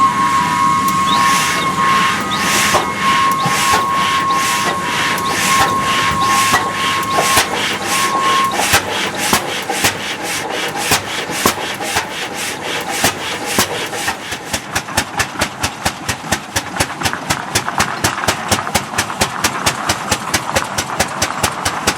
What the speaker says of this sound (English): Unbelievable as it may seem, these acrobatics were the normal method of starting the engine